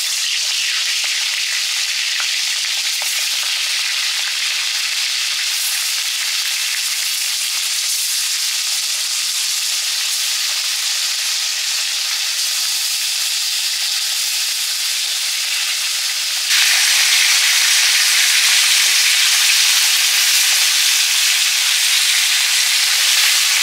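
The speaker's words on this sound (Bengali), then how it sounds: "মাছ ভাজবো, তেল দিলাম" Fish fries in hot mustard oil, a loud, continuous crackling sizzle close by that grows louder and brighter partway through, with no voices.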